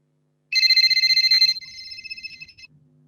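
Telephone ringing on a live call-in radio show, a bright electronic trill burst lasting about a second followed by fainter echoing tones, alone and close.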